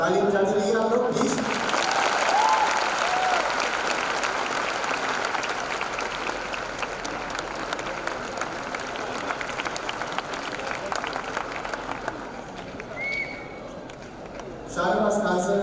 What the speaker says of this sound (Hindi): ताली बजाते रहिए आप लोग प्लीज।